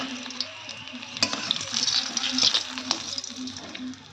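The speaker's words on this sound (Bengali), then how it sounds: "চলো চলো মাছগুলো ভেজে নিই।" Rohu fish pieces frying in hot oil in a pan, a steady close sizzle with crackling pops and a few stirring clinks, alone without talk.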